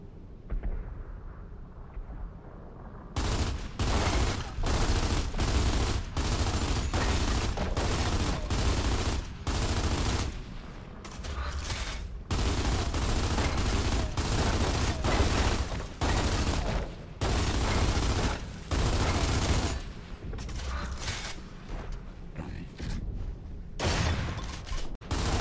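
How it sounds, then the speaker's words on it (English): Gears of War 2 weapons fire at a stone archway in rapid bursts of heavy automatic gunfire, loud and sustained with brief gaps between long volleys. "you look at the archway and you shoot it"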